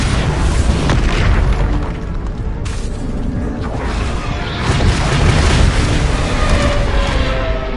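Explosive Bombarda spell blasts from Hogwarts Legacy, a dense, continuous roar of booming bursts and crashing debris that stays loud throughout with no pause.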